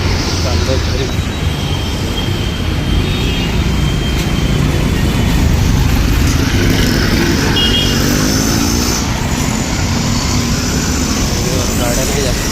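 Sparse road traffic passes with a steady engine and tyre rumble from a few vehicles, heard close and fairly loud under someone talking.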